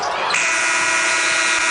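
A loud, harsh electronic buzzer ends a quarter at a Washington vs Stanford basketball game, blaring continuously, steady and piercing, over faint background crowd noise.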